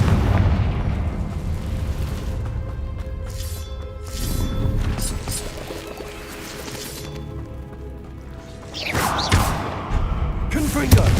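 Blasting-spell explosions from the Hogwarts Legacy video game: repeated loud booms and crashes with debris-like bursts, spread across the scene over a dense, continuous game soundscape.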